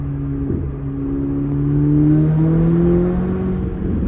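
A Chevrolet Corvette ZR1 with 1,064 horsepower winds up under boost, its engine note climbing in pitch through two rising pulls with a brief dip between, loud and close from the cabin.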